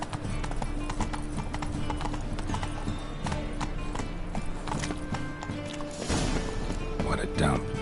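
A horse's hooves clip-clop at a steady walking rhythm in The Witcher 3, loud and close, with game voices speaking over them and a brief whinny-like rise near the end.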